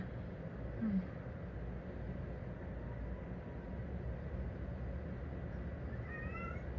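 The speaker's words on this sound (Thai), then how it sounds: "แมวเรา" A cat meows briefly once near the start, a short faint cry over steady outdoor background noise that continues throughout.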